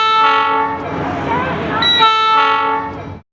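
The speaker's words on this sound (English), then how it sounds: "Quickly we board the train," A train on the Copper Canyon railway in Mexico sounding its horn, two loud sustained blasts separated by a brief gap, close and dominant, with rumbling underneath.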